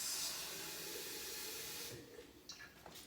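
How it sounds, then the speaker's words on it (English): Water is poured into a glass jar, a steady splashing stream running for about two seconds before thinning into a few brief drips and trickles. "So I'm just gonna add a little water to this, shake it out."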